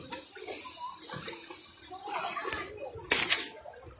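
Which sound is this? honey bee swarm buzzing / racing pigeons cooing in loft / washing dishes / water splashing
water splashing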